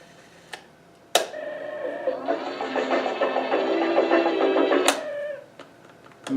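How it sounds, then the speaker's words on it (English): Control levers on a circa-1970 Standard SR-150 vintage cassette tape recorder clunk into place with sharp mechanical clicks, followed by a few seconds of whirring tape transport before another firm click stops it, close and clear. "The levers to control the rewind, fast forward, play and stop are very solid"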